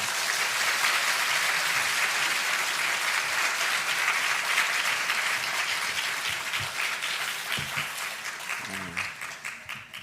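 Sustained, dense applause from a church congregation welcoming a pastor, loud and steady throughout before thinning slightly into scattered claps near the end.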